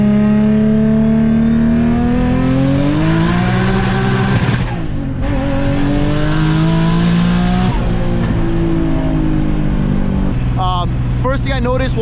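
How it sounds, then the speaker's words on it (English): A big-turbo Infiniti G35 coupe engine with a massive exhaust leak, heard loud and up close as it revs and settles in a continuous, rising and falling roar. "First thing I noticed was we still have a massive exhaust leak right now."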